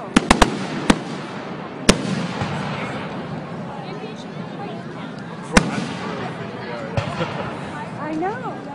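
Fireworks pop in sharp, loud cracks, a quick cluster at the start then scattered bangs, over a busy outdoor wash of crowd noise and people talking in the night.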